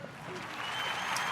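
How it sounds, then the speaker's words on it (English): Brief burst of audience applause at a live UFO discussion panel, a steady wash of clapping with some voices mixed in. "Can I have a round of applause?"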